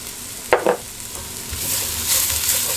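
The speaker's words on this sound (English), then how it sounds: "Stir it in." Garlic, chili, ground coriander and smoked paprika stirred in a sizzling pot for one-pot chicken and rice: two sharp scraping knocks of the spoon near the start, then a steady hiss of frying that swells toward the end.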